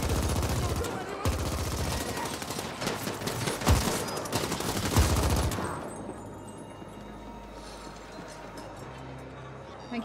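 Bursts of turret gunfire in the sci-fi action game The Ascent, loud and dense for the first several seconds amid other combat noise, then dropping away to quieter background game sound.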